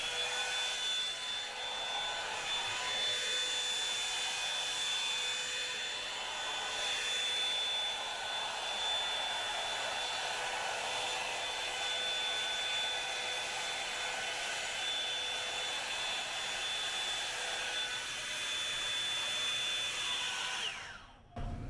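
A hair dryer blows on hair that is hard to dry at the base. Its steady, close whine runs without a break for about twenty seconds and cuts off abruptly at the end, with no talking.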